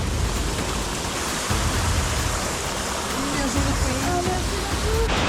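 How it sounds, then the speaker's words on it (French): Waterfall in a snowy landscape, a steady broadband rush of falling water filling the whole stretch, with faint voices talking over it. "Regardez cette cascade au premier plan."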